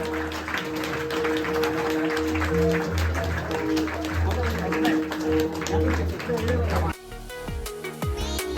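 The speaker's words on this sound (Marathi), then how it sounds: "जोरदार टाळ्या वाजवायच्या." Audience clapping at a retirement function and 58th birthday celebration, a dense crackle of hands running steadily under a sustained musical tone and cutting off sharply near the end, followed by a quieter, sparser stretch.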